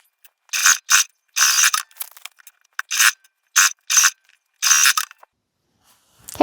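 Bursts of machine stitching from a sewing machine running along the short seams of a round fabric bag, each burst a buzzy mechanical whir lasting under a second, repeated several times close up with quiet pauses between.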